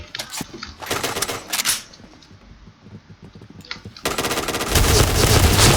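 Rapid automatic gunfire from the shooter game Point Blank as zombies are shot, loud bursts of rattling shots separated by brief pauses, then a dense continuous volley at the end.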